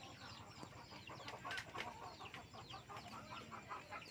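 Chickens and chicks cluck and peep steadily at a flooded rural home in Assam, with high chirps scattered over a constant low background murmur.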